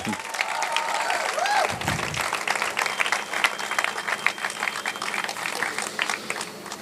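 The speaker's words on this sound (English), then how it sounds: "So, with all applause, please welcome our president once again, Dr. Krishnamurthy Bonantaya." An association audience applauds to welcome its president at a road safety awareness event, a dense, steady round of clapping heard throughout with faint background sounds.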